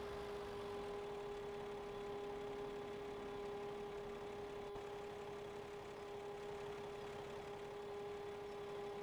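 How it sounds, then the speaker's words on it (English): In a farming video game, a grain silo's filling motor gives a steady, even tonal hum that runs unbroken throughout, with no talking. "I like the sound of this this silo when it fills up. It's kind of got a hum to it."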